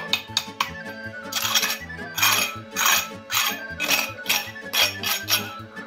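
Crispy pork skin, freshly out of the oven after about two and a half hours of roasting, crackles loudly and steadily up close, with bursts of rapid popping and sizzling rising and falling.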